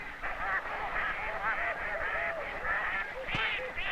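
Honking and quacking of waterfowl ducks as they follow a fence lead into a conservation trap, a dense continuous chorus of calls from a flock close by, with no voices over it.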